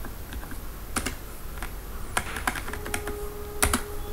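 Keys clatter on a computer keyboard as Python code is typed, quick irregular clicks in short bursts with small pauses, close and fairly quiet.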